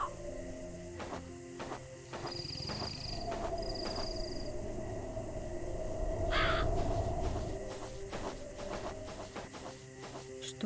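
Repeated harsh, crow-like bird caws from the video game Fran Bow ring out clearly at irregular intervals over a steady hissing, rumbling game ambience.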